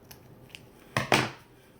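Scissors snip through the tail of a ribbon bow, two quick close cuts in a row with near silence around them.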